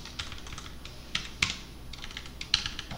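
Code being typed on a computer keyboard, a quick irregular run of close, crisp key clicks with a few louder taps, and no voices.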